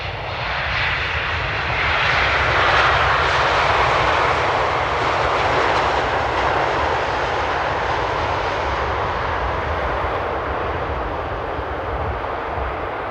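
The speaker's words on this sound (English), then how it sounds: "Once it touches down, you will probably see the rudder input." A jet airliner arrives and touches down at Amsterdam Airport, its engine roar loud and steady throughout, a broad sustained rumble that swells slightly and then holds, with no voices.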